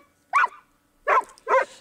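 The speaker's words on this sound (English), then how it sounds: "Old Mother Hubbard had a dog, a very clever dog." A dog barks three times, short sharp yaps close by with a pause after the first, clear against quiet.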